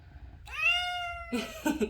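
A cat gives a single drawn-out meow, close and clear, followed by a shorter, rougher vocal sound.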